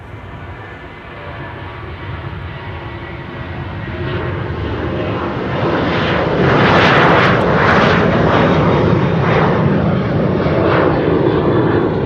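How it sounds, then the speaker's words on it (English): A Boeing 737 airliner bound for Athens moves on the ground at Schiphol Airport, its jet engines building into a loud, swelling roar that peaks and holds, with no voices. "it looks like the 737 to Athens is also on the move"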